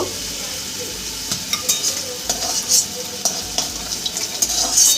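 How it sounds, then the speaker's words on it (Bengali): Chapila fish frying in a pan, a constant loud sizzle and crackle close by, with intermittent utensil clinks and stirring scrapes, no talking. "আর এক পিঠ আমি ভাজলে ভেজে তুলে নেব মাছ ভাজা হয়ে গেছে"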